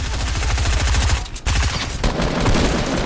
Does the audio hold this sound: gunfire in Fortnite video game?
yes